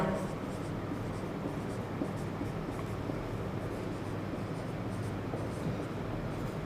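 Marker or chalk writing on a board during an accounting lesson, a continuous scratchy scrawl of strokes close by, steady throughout with faint background hum.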